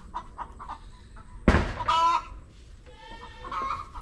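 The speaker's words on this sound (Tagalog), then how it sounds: "Manok na putak na ang putak." Chickens on a Filipino farm clucking in short bursts near and far, with one loud sharp squawk or slam partway through and louder overlapping clucks and cackling afterward.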